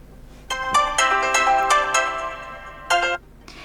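Alarm tone previewing on a HONOR Magic8 Lite phone: a bright melodic ringtone phrase of several quick notes, a short pause, then another burst, heard close and alone.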